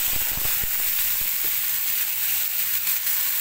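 Chopped beans and potatoes fry for a fried-rice breakfast in hot oil, giving a steady close sizzling hiss throughout with a few faint clicks of stirring near the start.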